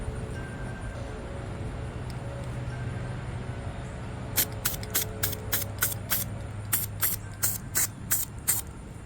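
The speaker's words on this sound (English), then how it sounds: "Be sure to examine and rotate while spray painting for complete coverage." An aerosol spray paint can hisses steadily while coating concrete magnets, then bursts into a run of short, regular sprays, close and loud, with no voices.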